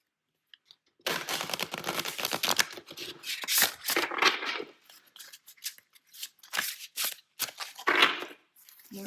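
An oracle card deck is shuffled by hand close up, giving repeated crisp riffling and slapping bursts in uneven clusters with short pauses between them. No one speaks.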